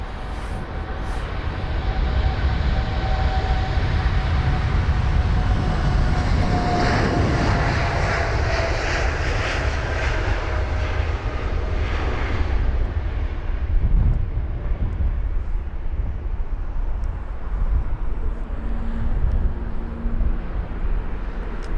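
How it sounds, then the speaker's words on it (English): A Saudi Boeing 787-10 Dreamliner jet departs Heathrow, its engine roar swelling loudly to a peak and then slowly fading into the distance, with no talk. "Goes that Saudi flight, 787-10 Dreamliner."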